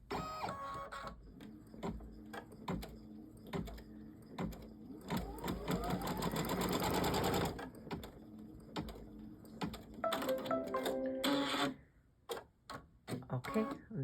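An embroidery machine stitching out a Kimberbell pillow panel gives rapid, mechanical needle ticking and whirring, a sustained busier run in the middle, then choppy bursts with pauses, faint and close.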